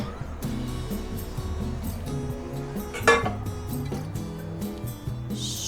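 Flour halva being spooned out of a pan onto a dinner plate, with soft scraping and a few light clinks of spoon against pan, one sharper clink near the middle, over steady low background noise.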